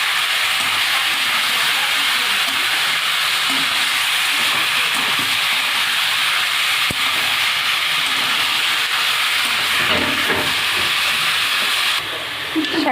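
Spinach hits hot oil with panch phoron, dried red chillies and bay leaf, giving a loud, steady sizzling hiss throughout, with a brief stirring clatter and the sizzle easing slightly at the end.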